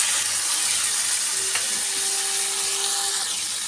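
Tilapia fish frying in a pan with onion, salt, chili powder and turmeric gives a steady, close broadband sizzle with no voices over it.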